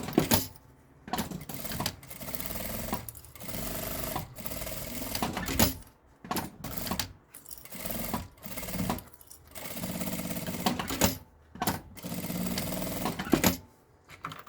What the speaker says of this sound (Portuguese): E vem passando uma costura, então, com um pé de máquina, passa por cima do zíper.